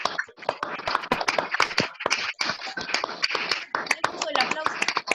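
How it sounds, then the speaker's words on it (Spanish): Applause from several video call participants clapping at home, dense uneven claps throughout, mixed with some chatter. "así nos desmuteamos y aplaudimos desde nuestras casas a Alejandro por la excelente charla"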